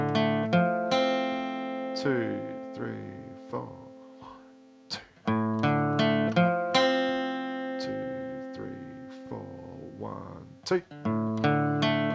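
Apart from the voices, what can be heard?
guitar lead line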